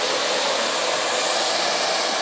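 A handheld hair dryer blows steadily and loudly at close range while hair is lifted and dried with a brush, a constant broadband rush with no breaks.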